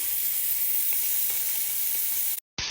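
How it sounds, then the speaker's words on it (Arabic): Chopped garlic cloves sizzle in a pan with a loud, steady frying hiss that runs unbroken, cuts out abruptly for a moment near the end, then returns. "رح اضيف كمان سنون الثوم المقطعه"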